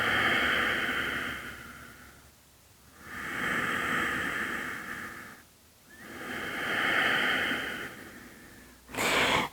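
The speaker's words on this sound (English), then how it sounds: "Breathing in and out through the nose." Slow, deep nasal breathing during a postpartum yoga session: three long, steady inhale-exhale cycles, close and soft, with brief pauses between breaths and no talking.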